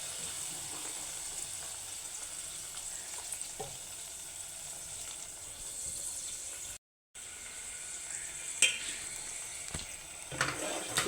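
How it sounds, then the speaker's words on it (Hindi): Ground onion paste with a little cumin frying in oil in a pan, giving a steady, close sizzle throughout with a brief break and a few light clinks of stirring near the end. "ये डाल दूँगी मैं प्याज ऑयल में। मैं डालूँगी इसमें थोड़ा सा ज़ीरा"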